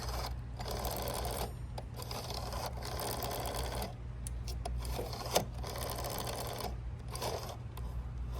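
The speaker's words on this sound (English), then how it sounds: "the rotary dial keeps getting stuck" A sticky rotary dial on a vintage 1970s gold French cradle telephone turns and returns in bursts of whirring clicks separated by short pauses, close up with no voices.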